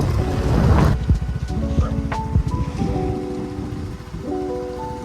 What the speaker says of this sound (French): il pleut extrêmement fort